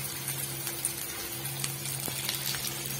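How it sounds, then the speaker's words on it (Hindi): Chopped onions frying in a pan for tomato dal, a steady hiss and bubbling sizzle with low hum underneath, continuous and fairly faint without speech. "इन सबको डाल के अच्छी तरीका से भूनेंगे।"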